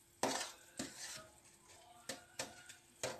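Fenugreek being stirred into boiling honey in a pot: a spoon knocks and scrapes against the pot in five or six sharp clinks spaced irregularly, close up, over quiet background.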